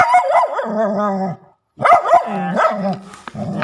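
A dog barks and yips in quick bursts close by, with a brief pause before more loud, excited barking and howl-like cries.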